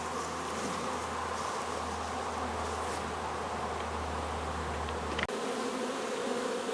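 A dense, steady swarm of honeybees buzzing close by at a hive, a constant droning hum that runs unbroken until a brief knock near the end.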